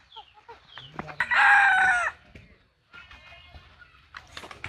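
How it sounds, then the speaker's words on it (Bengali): A rooster perched up in a tree crows once, loud and close, with clucking chickens around it and faint voices in the background. "এই মোরগ গাছের উপরে"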